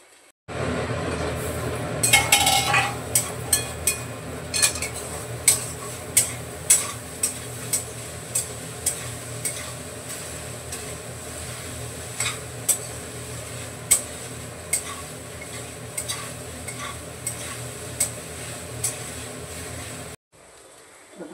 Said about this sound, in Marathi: फास्ट गॅसवर परतून घेतले चांगले एकदम